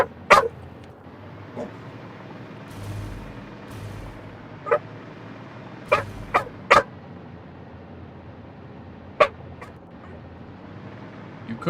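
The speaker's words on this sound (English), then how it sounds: "You could bark more." A dog gives sharp, scattered barks and yips, several separate bursts spaced irregularly over a quiet background hum.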